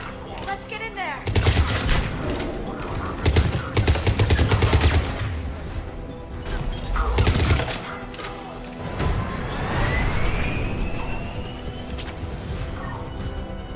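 Rapid bursts of automatic gunfire from the video game Mass Effect 3, several loud clusters of shots in a combat firefight with a rising whine toward the end, with voices talking amid the shooting.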